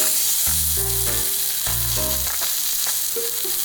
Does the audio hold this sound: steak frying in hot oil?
yes